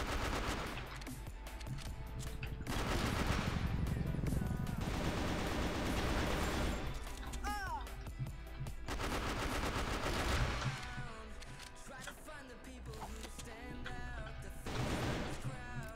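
AK-47 automatic fire in the shooter CrossFire West, a dense rattle of bursts running through most of the stretch with brief pauses, loud and close, layered with game music and effects.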